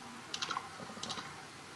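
Two quick bursts of clicky keystrokes on a computer keyboard, close and crisp, separated by a short pause, with no talking.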